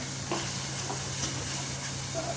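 Milk, about one bowlful, being stirred into a sautéing mixture in a pan: a steady hiss and sizzle with soft stirring scrapes, close and moderately loud, no talk.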